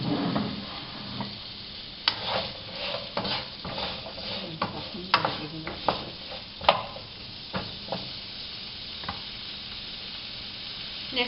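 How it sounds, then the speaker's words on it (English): Beef round steak stir-frying in a wok, with a steady sizzle broken by frequent sharp clinks and scrapes of a utensil stirring against the metal. The sound is close and fairly quiet, and no one speaks. "Now we're going to add our beef. I'm using a beef round steak."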